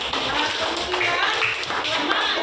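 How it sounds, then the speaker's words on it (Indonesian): Classroom applause for a group after its presentation, a dense burst of many hands clapping continuously, close and loud, mixed with chatter. "Tepuk tangan buat kelompok"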